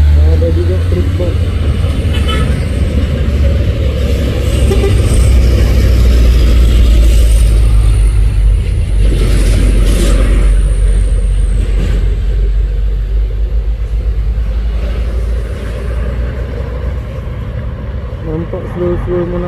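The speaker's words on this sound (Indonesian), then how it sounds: "Ada juga truk box." Box truck climbing the steep Bukit Kodok hill, a loud continuous low engine rumble and strain that holds steady and eases slightly near the end, with someone talking over it.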